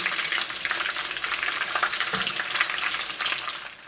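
Chicken cutlets fry in oil with a steady, dense sizzle and crackle, close and continuous, with no voices.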